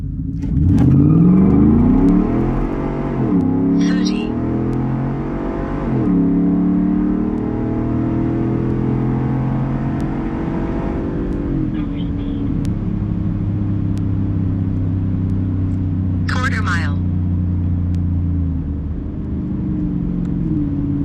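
A 5.0 pickup truck engine with bolt-on mods and an E85 tune revs and accelerates hard, rising in pitch through gear changes, loud and droning throughout with a few brief higher whines.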